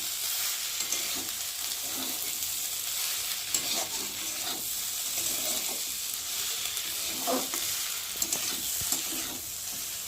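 Okra fries with spices in a pan as a spatula stirs and scrapes, making a continuous soft sizzle with repeated scraping strokes every second or so, close and moderately loud.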